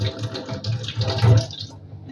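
Hot liquid is poured out of a glass jar of pickled cucumbers, a close, continuous splashing gush that tapers off near the end.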